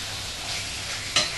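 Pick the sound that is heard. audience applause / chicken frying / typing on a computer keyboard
chicken frying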